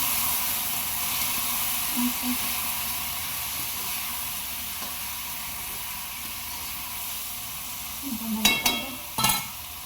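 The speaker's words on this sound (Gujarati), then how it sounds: "આપણે શાકનો વઘાર કરી દીધો છે" Spices for tempering a Gujarati ivy gourd and potato curry sizzle and hiss in hot oil in a steady, close frying noise, with a couple of louder crackling spurts near the end.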